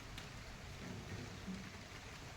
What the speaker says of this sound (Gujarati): આજ ખબર હતી કે વરસાદ આવવાનો છે અને આવી પણ ગયો.